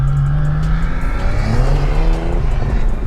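A turbocharged car spins its wheels on cold tarmac at a roll racing event in Brisbane: a loud, close engine roar with a rising, shifting pitch and rough tyre noise over about three seconds.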